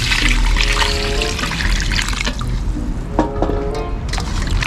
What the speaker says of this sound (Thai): เทน้ำเข้าไปนะครับผม